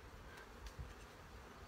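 A steady insect drone of honey bees during a hive inspection hums continuously at low volume, a diffuse buzzing with no voices.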